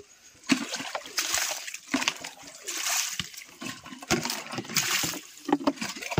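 On a farm, water splashes and sloshes in repeated uneven bursts as a container or basin is being emptied, close and moderately loud.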